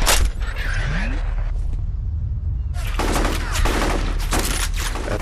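Video game gunfire with a shotgun: loud, dense bursts of shots and mechanical clatter, a short quieter gap, then a longer stretch of heavy firing, with voices speaking under the action.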